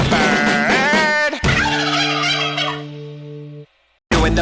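A voice mimics a turkey's gobble, rapid warbling gobbles sung loud and close as part of a dance-song chant, ending in sustained held tones, a brief silence, then more singing.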